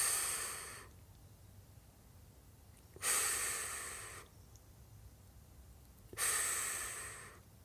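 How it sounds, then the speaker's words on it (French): Slow exhalations during a calming breathing exercise: three long, soft breaths out, each starting with a breathy rush and tapering away, separated by quiet pauses, close and alone. "J'expire."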